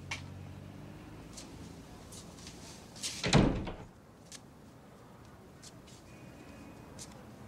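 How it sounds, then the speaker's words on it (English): A door shut firmly once midway, a sharp thud with a short rattle over quiet room tone, followed by faint ticking clicks afterward. "You shut the door, will you?"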